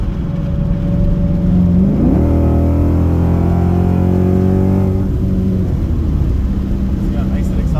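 A car fitted with long tube headers accelerating hard, the engine note climbing steadily through a gear then easing off, loud and close from inside, with a voice talking over it.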